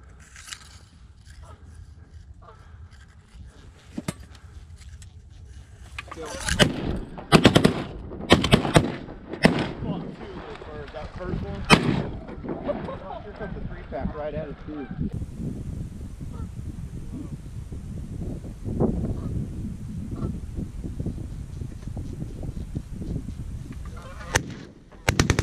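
Shotgun gunfire during a goose hunt on a frozen pond: a quick volley of loud, sharp blasts from several guns, followed by geese honking and outdoor noise, with hunters talking quietly before the shots.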